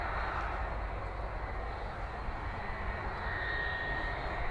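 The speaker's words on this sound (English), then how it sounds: "This one, it's heading off to Fuerteventura. It's a Boeing 757" A Jet2 Boeing 757 jet airliner at Manchester Airport gives off a steady, continuous broadband engine roar, fairly loud and unbroken throughout, with a faint rising whine near the end.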